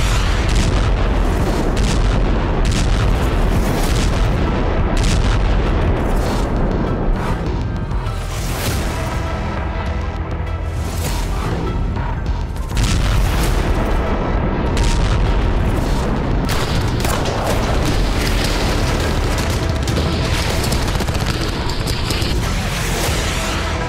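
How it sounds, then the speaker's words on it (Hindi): Dense, continuous rumbling blasts and booms of explosions near a nuclear power plant in wartime Ukraine, loud and sustained over the whole stretch with no clear gaps. "न्यूक्लियर प्लांट के बिल्कुल करीब इतने धमाके हो रहे हैं"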